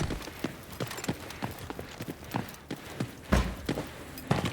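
Footsteps in the tactical shooter Rainbow Six Siege, a steady run of short, fairly close thumping steps with a few louder hits near the end, over a noisy game background.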